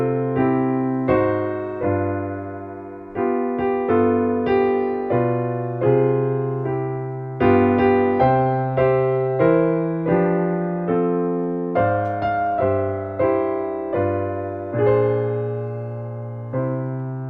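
A song played on piano with borrowed chords, a steady sequence of struck chords under the melody, each attack decaying, close and clear with no voices.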